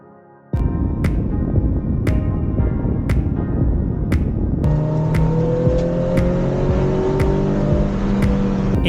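A Toyota Yaris driving on Laguna Seca race track, a steady engine drone with tonal whine rising after a few seconds, accompanied by a regular ticking click roughly once per second.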